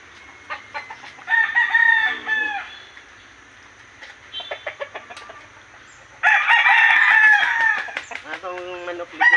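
Backyard chickens cluck and a rooster crows in two long loud calls, with scattered short clucks and squawks between them, close by and at times under a voice talking.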